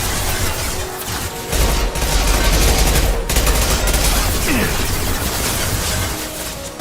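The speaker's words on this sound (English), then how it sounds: "Firing an impact shot." An impact shot weapon fires in the video game Mass Effect amid a dense, loud barrage of battle gunfire and booming blasts, with a voice speaking partway through.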